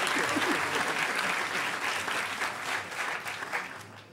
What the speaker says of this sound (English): Everybody, round of applause for Nick Farr and his head.